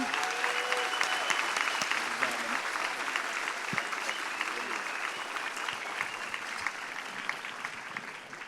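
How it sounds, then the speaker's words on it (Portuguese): At a closing ceremony, an audience applauds steadily and fairly quietly, a continuous wash of clapping with a few sharper claps and faint voices mixed underneath. "Salva de palmas para todos vocês."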